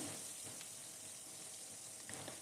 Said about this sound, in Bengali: এবার কড়াইতে তেল দিয়ে আমি মাছের মুড়োগুলো ভালো করে ভেজে নেব